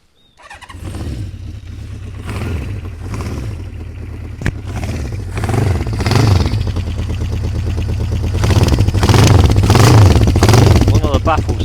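A classic Honda CB550 K3 motorcycle engine cranks and fires up close, then settles into a steady running beat that swells with revs, with a faint loose-baffle rattle and brief talk around it.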